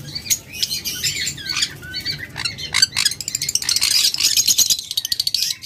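Two pure white local-breed pet birds chirp and call busily up close, with rapid tweets, squawks and rattling trills overlapping continuously, plus some wing flapping.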